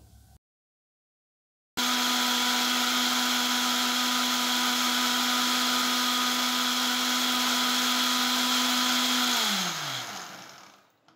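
A mixer grinder whirs loudly and steadily after a short pause, churning cream into butter for several seconds before winding down and stopping.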